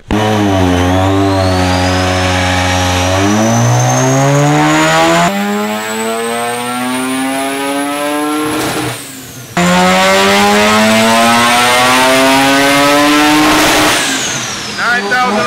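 A built Mazda RX7 rotary engine on a dyno screams up through the revs to around 9,500 rpm in loud, rising pulls, dropping briefly between runs before climbing again, with a voice faintly underneath.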